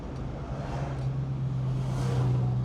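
A 1967 Mustang Fastback 390 GT runs steadily with a low, even engine hum that swells slightly toward the end, with no voices.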